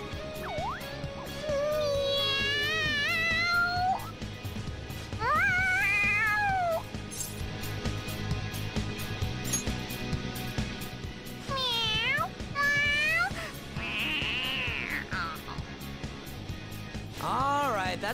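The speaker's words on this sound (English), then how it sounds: "The cat's acting awfully excited." A cat in the video game Persona 5 meows excitedly over and over, rising and falling cries repeating across the stretch, mixed over steady background game music and occasional voices.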